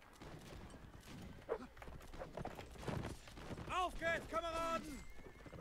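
Horses gallop and whinny in a cavalry capture-the-flag battle in the game Legion. Rhythmic hoofbeats and neighs run under excited German talk from players.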